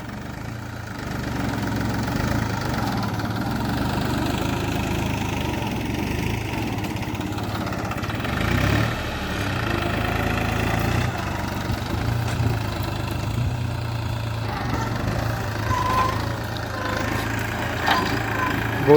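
A New Holland 4710 4WD tractor engine runs steadily throughout while ploughing, a loud, continuous low drone with a slight rise in revs midway, no voices over it.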